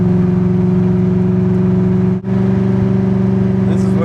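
A car engine cruises in 4th gear with a steady, loud droning hum that holds constant apart from one brief dip, and a voice talks over it.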